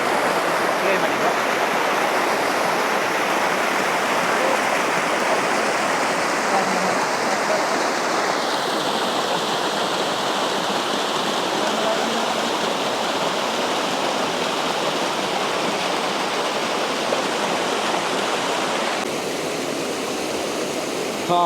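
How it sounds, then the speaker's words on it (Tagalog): Steady, broadband rush of the Kawa-Kawa River in Barangay Jolo, Roxas, Palawan, flowing continuously and fairly loud throughout, with a slight change in tone partway through and no talking. "Kawa-Kawa River ng Hulu."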